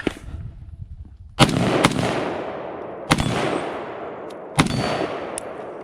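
Rifle shots at a shooting training range ring out as three sharp, loud cracks spaced about 1.5 seconds apart, each trailing off in a short echo over steady background noise.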